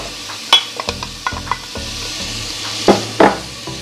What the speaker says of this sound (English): And I'm just gonna add the onions and the celery